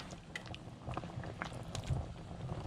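Brown stew chicken simmers in a pot, giving faint, close bubbling with soft pops and gurgles throughout.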